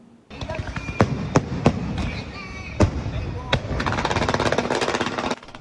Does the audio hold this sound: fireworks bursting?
yes